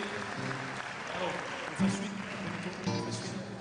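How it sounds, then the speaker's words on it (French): Concert audience at a Radio Lumière anniversary show applauding, a steady wash of clapping with a voice talking over it. "applaudissez, s'il vous plaît"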